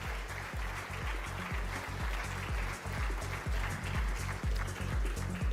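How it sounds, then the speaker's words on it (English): Applause from the audience at an awards ceremony honouring the Business Reformer of the Year in Andhra Pradesh: steady, dense clapping that fills the hall, with a rhythmic low thumping pulse running underneath throughout. "I'd request a warm round of applause and a big thank you"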